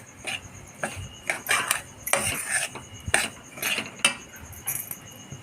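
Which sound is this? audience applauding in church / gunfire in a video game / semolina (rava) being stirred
semolina (rava) being stirred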